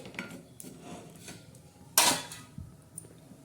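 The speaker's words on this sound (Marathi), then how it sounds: "भाजून घेणार आहोत गरम तव्यावर असे मस्त असे लालसर असे आपण कुळेत भाजणार आहोत" Horse gram dry-roasting on a hot iron griddle, heard as soft, sparse scrapes and light clinks of a utensil against the pan, with one sharper scrape in the middle, fairly quiet and with no talk.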